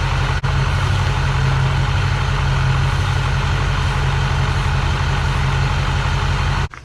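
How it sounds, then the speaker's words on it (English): A Ford F450 truck engine idles close by with a loud, steady low rumble that runs unbroken for about seven seconds. "That is obviously the truck running."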